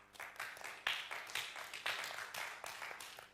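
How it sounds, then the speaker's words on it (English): Audience applause breaks out at a Bible quiz contest in Wolverhampton, a steady wash of many hands clapping together, moderately loud and sustained throughout with no talk over it. "Clap for her, please."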